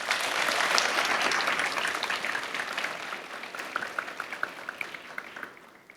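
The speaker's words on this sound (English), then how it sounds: "Please give a big round of applause for Mr. Jesse Aguilar and all of our amazing guest speakers." Audience applause at a school graduation ceremony, a dense wash of many hands clapping that swells early and then thins toward the end into scattered individual claps, heard without talk.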